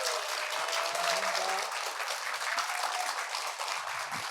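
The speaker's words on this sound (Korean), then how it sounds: "박수 한번 좀 보내주시죠." A seated audience at a book talk with a former police superintendent gives a dense, continuous round of applause, steady and even throughout, with faint voices and a brief tone underneath.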